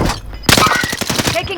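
Gunfire in the Call of Duty Warzone video game on Rebirth Island comes as a sudden close burst of rapid shots. It follows a low rumble and is crowded by other game sounds.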